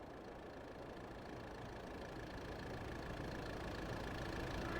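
Tractor engine idling in a video game, a steady low mechanical drone with a faint tonal hum that keeps running at constant level and swells slightly louder toward the end, with no voices.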